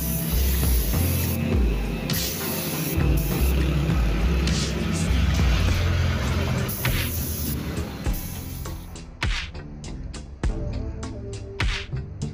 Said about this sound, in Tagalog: Kailangan pa natin itong spray ng purong top coat clear para mas kikita pa siya lalo.